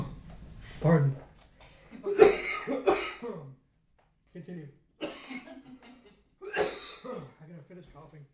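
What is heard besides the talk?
coughing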